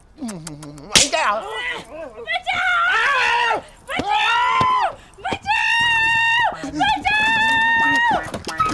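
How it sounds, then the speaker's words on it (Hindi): A woman screams repeatedly in a Hindi comedy film scene, loud drawn-out shrieks in several bursts at close range, separated by brief gaps and sharp slap-like hits. "चिल्ला क्यों रही है?"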